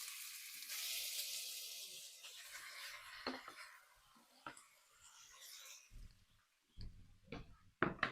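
Beef chuck roast searing in about two tablespoons of avocado oil in a preheated Dutch oven, a hissing sizzle that swells early and then fades, broken by clicks and clatter of handling.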